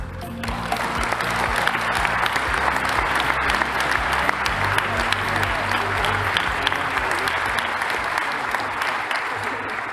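Audience at a graduation ceremony applauding newly conferred graduates, sustained broad clapping filling the hall evenly for the whole stretch, loud and continuous.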